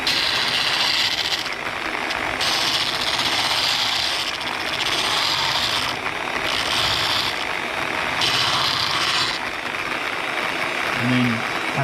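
Drill bit turned against the grinding wheel of a Multi Sharp drill bit sharpener, a steady close whirring grind with several short rasping bursts that rise and fall in a rough rhythm.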